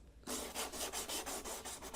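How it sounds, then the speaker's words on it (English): Mortar edges on a tabletop model floor and wall set are sanded with 220 grit sandpaper: close, rhythmic rasping strokes, about seven back-and-forth rubs in quick succession. "take some 220 grit sandpaper and just sand off all the edges and make sure there's no overhang"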